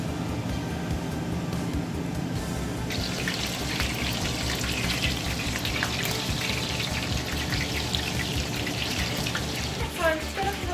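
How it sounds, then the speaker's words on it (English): Water is poured into a pan holding roasting duck, a steady splashing hiss that grows brighter partway through, with kitchen clatter and a voice beneath. "So I'm just going to put a little bit of water in the pan."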